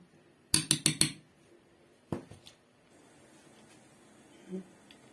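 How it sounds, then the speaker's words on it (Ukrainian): Screw lids are tightened onto glass jars of pickled tomatoes just filled with boiling marinade, giving a quick burst of four bright metallic clinks, then a couple of softer knocks and a faint clunk in a quiet room. "Заливаю цією водичкою, маринадом киплячим, прикриваю кришечками і закручую."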